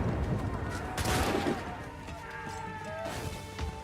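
Gunfire bursts and crashes from the video game Assassin's Creed III, with a cluster of impacts around the middle over busy background effects and music-like tones.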